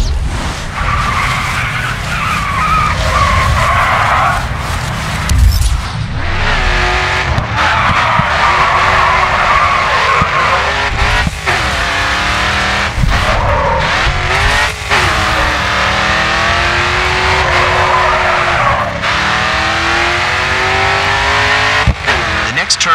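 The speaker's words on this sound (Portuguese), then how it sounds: "Next corner, let's see a drift." A car drifts through corners in the Grid 2 racing game on a California track, its engine revving and gliding in pitch while tires squeal in long loud skids, with a voice talking over the action.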